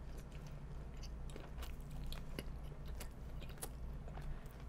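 Close-up biting and chewing of a salty Burger King hot dog in a bun with cabbage topping, soft crunchy mouth sounds repeating steadily with no talking.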